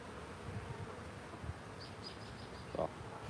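A low, continuous hum of honeybees around an open hive during an inspection, with faint brief chirps and a short louder knock near the end.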